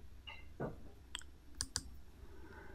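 Mouse clicks come in PowerPoint on a computer, a faint single click and then a quick crisp pair, close up and quiet over low room hiss, with no talking.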